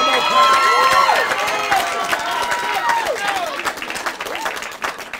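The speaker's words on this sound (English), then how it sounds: "next time you clap, clap your hands like you're gonna clap them off" Wedding guests applaud and cheer. Dense clapping is mixed with whoops, shouts and crowd noise, full and close at first and easing slightly toward the end, with voices among the cheers.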